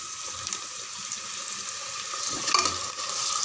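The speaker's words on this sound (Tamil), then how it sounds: "நல்லா சேர்த்து 2 நிமிஷம் நல்லா வதக்குங்க." Chopped ripe tomatoes and green chillies sauté in a pan for a lunch box rice dish, giving a steady, fairly close hiss of frying with soft stirring scrapes and occasional brief crackles, no talking.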